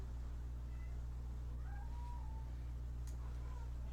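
A cat meows a few times in a short run of calls over steady low background hum, with no talking.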